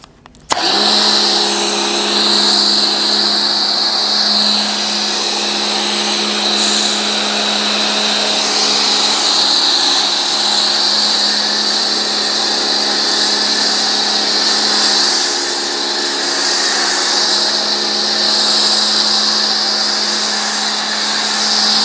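A Lidl Parkside pressure washer runs with a Galaxyer snow foam cannon attached, giving a steady, loud motor whine with a constant spray hiss. It holds evenly for about twenty seconds after a brief quiet start, with no talking.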